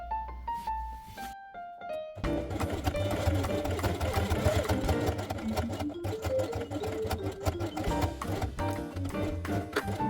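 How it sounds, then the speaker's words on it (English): A sewing machine runs a quick stitch burst backwards and forwards along a fabric binding strip for a quiet book page, then drives on in a steady, close, mechanical whirring chatter; a few tonal notes come before it. "Then sew backwards and forwards one more time and cut the threads."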